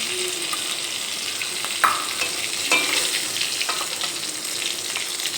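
Pieces of rui fish sizzling in hot oil in a pan, a steady bright hiss throughout with a few soft clinks and scrapes of a utensil, close by and with no talking.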